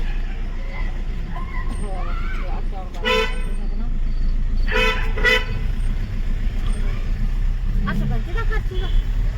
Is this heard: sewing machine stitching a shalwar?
no